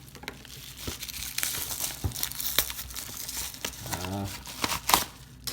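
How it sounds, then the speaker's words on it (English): LEGO mail-order packaging is cut and torn open close by, with continuous crinkling and rustling of plastic and paper, occasional sharp crackles, and a person talking over it. "Watch me like cut like some important packaging or something"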